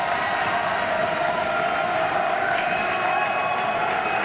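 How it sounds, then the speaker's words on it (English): A dense crowd roars and cheers steadily at a college men's basketball game in a large gym hall, loud and unbroken throughout. "Wow, listen to this crowd"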